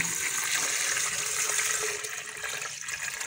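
Liquid pours steadily from strained, settled coconut milk being decanted off its sediment, making a continuous close splashing gush that eases slightly toward the end.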